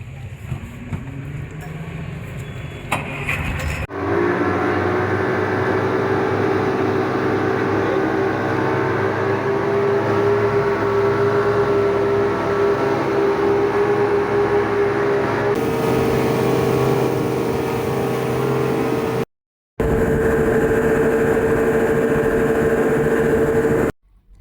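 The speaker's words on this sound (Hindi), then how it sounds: "सो ये मोटर बोट हमें लेके गई इस आइलैंड पे" A motor boat engine drones loudly and steadily on the trip to Cham Island off Vietnam, a constant close rumble that keeps going with a brief cut near the end and no talk.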